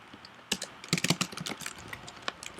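Keys clack on a computer keyboard as HTML is typed, a close sequence of quick, irregular taps in short bursts with brief pauses, alone without talk.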